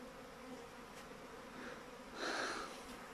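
A swarm of honey bees hums in a steady, dense buzz near a mountain apiary, with a swell of louder buzzing near the end and no talk over it.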